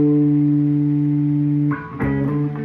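A distorted electric guitar holds a long buzzing note, then shifts abruptly to a new chord that rings out.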